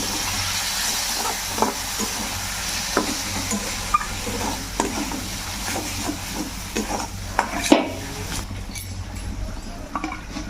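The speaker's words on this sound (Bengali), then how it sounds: "অল্প জল দিয়ে দিলাম। ভালো করে কষিয়ে নেব।" Chicken curry with Kashmiri chili powder and a little water is stir-fried in a pan, a continuous close sizzle and hiss broken by repeated scraping stirs, ending in a louder clatter, with no talking.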